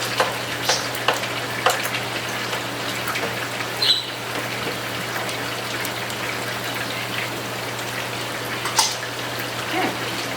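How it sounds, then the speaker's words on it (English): Onions frying in a pan as the base for pork chop steaks adobado, a steady close sizzle with occasional faint clicks and stirring taps over a constant low hum, no talk. "You're going to add your onions. Fry those up in there."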